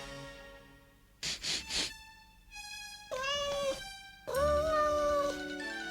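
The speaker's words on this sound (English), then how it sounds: "Dennis, don't tease the cat." A house cat meows repeatedly, close and loud, a series of drawn-out, wavering cries that grow more insistent and plaintive, with a few short bursts of rustling between calls.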